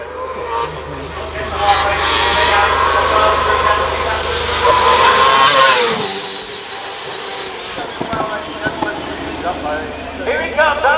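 A race car climbs the Shelsley Walsh hillclimb course in Britain, its engine building to a loud rising howl as it approaches and then fading away, with a commentator talking over it.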